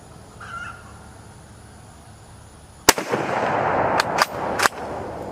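Shots from a Carcano 91/24 6.5 mm rifle fired outdoors at a 50-yard range: one loud crack, then a few more sharp reports in quick succession over ringing background.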